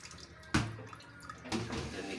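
Water pours steadily down a drain just cleared with a pipe cleaner, a continuous splashing rush with two louder gushes surging in about a second apart, close and unaccompanied by voices.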